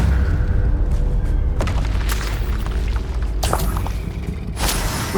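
A deep booming burst from the Incendio fire spell in Hogwarts Legacy, a heavy low rumble with crackling whooshes and repeated sharp bursts over several seconds, loud and close.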